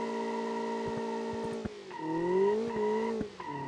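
A BMW M5 drifting in BeamNG, its engine holding a loud steady tone that dips and rises as the tires squeal through the slide, with a few short clicks and pops breaking in along the way.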